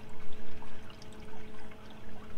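Water runs steadily into the fresh water tank of an Airstream trailer, a continuous close pouring and trickling wash with a faint steady hum beneath it and no talking.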